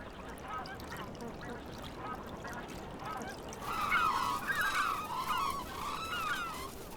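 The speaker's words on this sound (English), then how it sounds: "a large number of black-necked cranes spend winter here every year" Black-necked cranes call at a wintering ground on the Tibetan plateau, in the Yarlung Zangbo River valley; a flurry of loud, overlapping honking cries bursts out midway over constant windy background noise.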